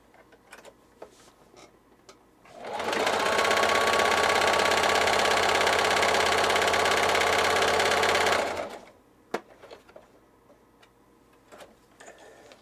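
A Singer Heavy Duty sewing machine runs a wide zigzag stitch in one steady, loud six-second burst, a fast even whirring rattle that starts and stops cleanly with quiet between.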